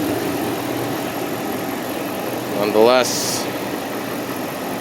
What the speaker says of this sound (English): engine runs